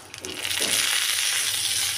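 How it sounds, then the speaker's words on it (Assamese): A leaf parcel of small fish and taro set in mustard oil in a wok, a brief scrape then a dense, steady sizzle swelling up close and holding. "মই চৈকাত কেৰাহী বহাই দিলোঁ আৰু মই ইয়াতে অকণমান মিঠাতেল দিছোঁ যাতে পাতটো লাগি নধৰে"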